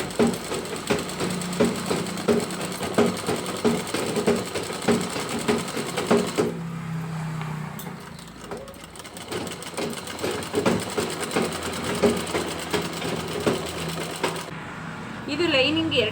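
A sewing machine stitches a blouse with a steady, fast rattling run that pauses briefly midway and then resumes. Someone talks over the machine.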